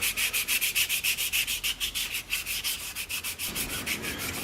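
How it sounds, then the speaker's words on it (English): Quick rhythmic back-and-forth sanding strokes rasp across a wooden knife handle, about five strokes per second, close and steady for several seconds. "I got it all sanded down."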